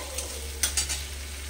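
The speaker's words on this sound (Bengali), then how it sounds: "আদা কুচি দিয়ে দিচ্ছি। একটু আলুটাকে একটু সাইড করে এখানে তেলের মধ্যে দিয়ে দিচ্ছি।" Chopped ginger goes into hot oil beside potatoes in a pan for a fish-head curry with potato and eggplant, giving a soft steady sizzle over a low hum, with a few brief stirring scrapes and no talk.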